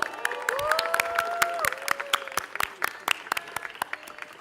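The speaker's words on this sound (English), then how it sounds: "can we get a loud cheer for Vatsal because it's his birthday today?" A live youth event audience cheers and claps loudly for a birthday, dense rapid applause with whoops and shouts rising over it, sustained throughout.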